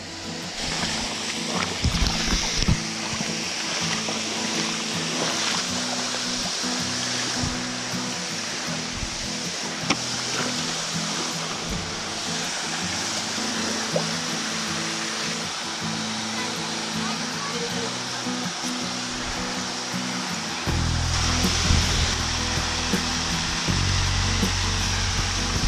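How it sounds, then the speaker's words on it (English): Waterfall pouring beside a creek where minnows gather and a bait trap is set, a steady broadband rush of falling water that holds loud and constant throughout, swelling heavier near the end, with faint speech underneath. "We got the beautiful waterfall over here."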